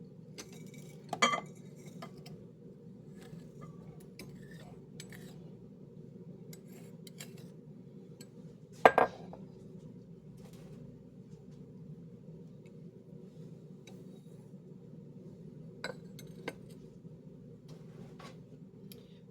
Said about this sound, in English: I'm going to put my sugars and my butter into my mixing bowl